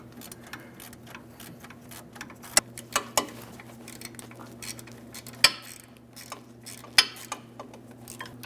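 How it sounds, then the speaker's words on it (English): Socket on a wobble extension snugging the rear axle mounting bolts on a 2005-2010 Chrysler 300 5.7L V8, heard as light, fast metallic ratchet ticks with a few louder clinks of tool on metal. "Now I'm using a wobble extension with my socket here. We're going to make sure each of these mounting bolts is snug."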